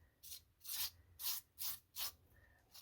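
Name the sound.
scraping texture paste onto paper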